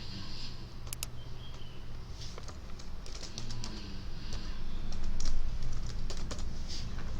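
Text is typed on a computer keyboard in quick, irregular key clicks that run throughout over a steady background hiss.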